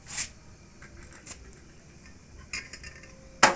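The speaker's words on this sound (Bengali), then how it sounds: "এবার নাবিয়ে নিয়ে দুধের হাঁড়িটা বসিয়ে দেব" Metal cookware clanks in a home kitchen as a frying pan is lifted off the stove and a pot of milk is set on for payesh; a few sharp, separate clinks and knocks over quiet background.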